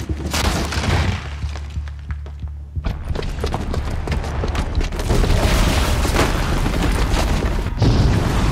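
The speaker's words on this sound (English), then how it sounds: "the booby trap on the bomb downstairs is gonna get set off" A bomb goes off in the game Horizon Zero Dawn: a deep, heavy booming blast with crashing, shattering debris rolls on loud and dense for several seconds after a brief lull, with low rumble throughout.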